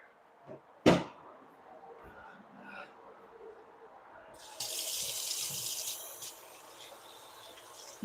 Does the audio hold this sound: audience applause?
no